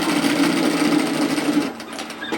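A sewing machine stitches a seam on a pleated long-line hoodie, running in a fast, steady close-up whir for most of the time before slowing and stopping near the end with a few short bursts.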